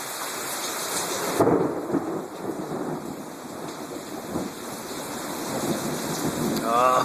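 Heavy thunderstorm rain pours down steadily with gusting wind across a Brookhaven deck and trees, a dense continuous roar with a low rumble, swelling louder toward the end; a brief voice murmurs at the start.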